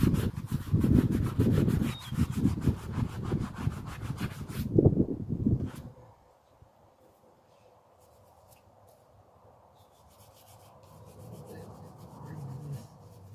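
Fine brush scrubbing a weathered, corroded WW2 veteran's headstone treated with D2 biological solution; rapid close scratchy strokes for about six seconds, then a stop and faint quiet scrubbing afterward.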